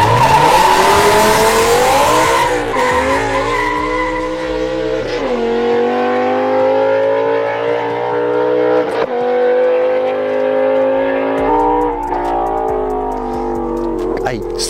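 A BMW M6 with a Dinan-tuned naturally aspirated V10 launching from a standstill with slight wheelspin, its engine roaring loud and close as revs climb through gear changes, tires squealing, with voices talking over it.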